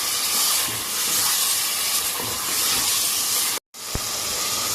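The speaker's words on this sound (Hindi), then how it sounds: "अब हम इसकी तकरीबन 10 मिनट तक बहुत अच्छे से भुनाई करेंगे" Mutton karahi masala with onions, tomatoes and green chillies sautéing in a pan, giving a loud, steady sizzling hiss that runs almost without a break, with a brief cut near the end before the frying resumes.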